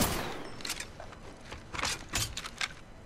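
Bursts of gunfire from a battle in the Apex Legends video game, with a string of sharp shots that come in irregular clusters and sit at moderate distance, with no talk over them.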